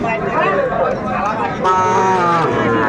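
Cattle low at a busy rural haat in Dinajpur selling young bulls and heifer calves, a long deep moo rising in the second half beneath near, continuous talk from traders.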